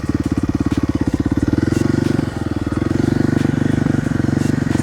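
A Kawasaki KLX 300R dirt bike runs nearby with a loud, rhythmic thumping idle and a slight dip and rise in revs partway through, and no one talks.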